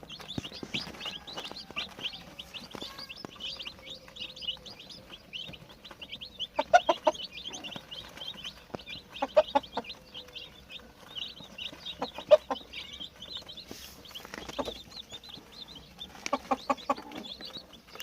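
Broiler chicks and chickens on a farm, a steady chorus of high peeping chirps with occasional louder clucks from adult hens, close and continuous with no talk.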